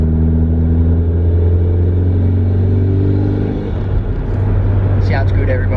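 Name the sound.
Mitsubishi Evo engine revving with screamer pipe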